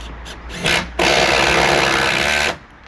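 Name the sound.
electric drill drilling brickwork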